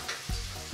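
Onions with salt and turmeric sizzle steadily in a pan while cooking for a stuffed eggplant curry, with a brief louder stir or toss midway.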